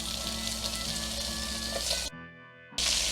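Sausage sizzling in oil in a frying pan on medium-low heat, a bright steady crackle that drops away briefly near the end before returning loud.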